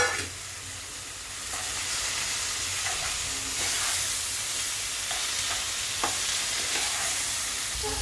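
Chopped ash gourd sizzles in a pan with a pre-fried fish head added, cooked without spices; a steady close frying hiss with occasional stirring scrapes and clicks runs throughout, no voices.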